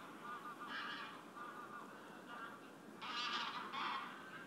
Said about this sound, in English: These geese, however, arrive in winter.